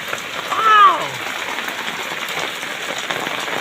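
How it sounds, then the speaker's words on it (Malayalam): Steady rain falling in a downpour, a continuous soft hiss heard throughout, with a brief voiced sound near the start. "ഒത്തിരി നാളുകൾക്ക് ശേഷം ഇങ്ങനെ ഒരു മഴ പെയ്തപ്പോൾ ഭയങ്കര സന്തോഷത്തിനാണ്"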